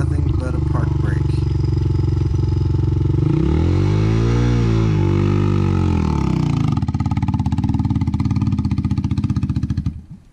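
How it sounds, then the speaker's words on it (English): A Sherco 300 Factory Race Edition motorcycle rides past on mountain single track, its loud engine note rising and then falling as it goes by, followed by steady close revving. "Right now, the Sherco 300 Factory Race Edition is going to go through."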